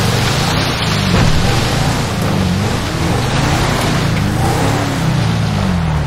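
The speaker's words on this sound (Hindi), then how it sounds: "कीचड़ में गाड़ी चलाने का मजा ही कुछ और है।" Cars churn through muddy, swampy ground in GTA 5, with a continuous loud engine rumble and shifting revving tones over wet, sloshing noise and no talking.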